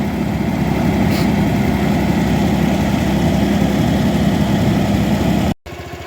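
A tractor engine idles with a steady, loud, low chugging drone, close and unbroken for several seconds before cutting off abruptly near the end.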